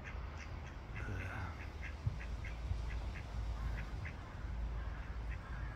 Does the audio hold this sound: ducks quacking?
yes